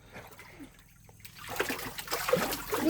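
Water is poured into a bucket holding freshly caught fish during pre-spawn fishing, starting as a faint trickle and building into louder splashing and splattering near the end.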